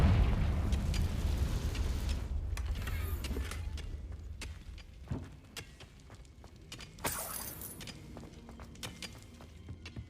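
A Confringo fire spell in the video game Hogwarts Legacy blasts with a heavy boom at the start, followed by several sharper bursts and pops over a rumbling background, with one bright crackling blast midway.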